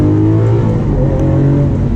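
A Lamborghini Aventador accelerating out of a turn, its engine a loud, close, rising roar with strong low harmonics sustained for a brief burst.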